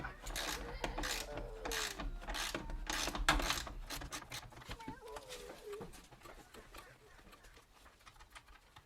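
A ratchet wrench works a 10mm nut on a campervan driver's seat swivel, giving fast, close metallic clicking and rasping that gradually tapers off, with a brief squeak partway through.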